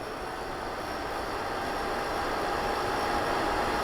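A Klarwind air purifier running on its low setting gives off a steady, even broadband whoosh of moving air. It holds a constant level throughout with no voices, quieter than an oscillating fan.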